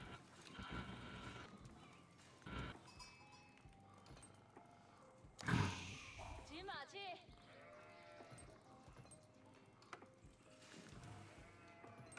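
Sheep bleat amid the busy soundscape of an Age of Empires IV online match, with horse whinnies, hoof clip-clops and game effects, while players talk over the action.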